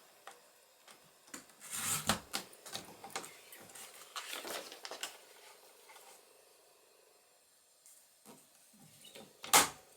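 A paper trimmer slices cardstock at close range, with scratchy sliding and rasping strokes and small taps that come in uneven bursts, followed by a sharp louder swipe near the end.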